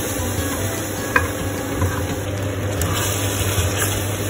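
Reduced vegetables are stirred into a pan of ratatouille, a steady close sizzle with soft wet scraping and one brief clink of the utensil.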